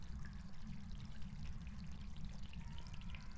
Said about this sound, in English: bathtub seems to be dripping